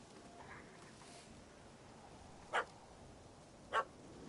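A puppy in The Witcher 3 game world gives two short, sharp barks a little over a second apart, fairly close, over a quiet ambient background.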